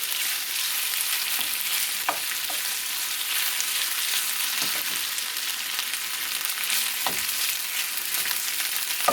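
Pieces of meat for posole browning in a hot pan, a loud, steady close-up sizzle with occasional faint scrapes and pops of stirring throughout.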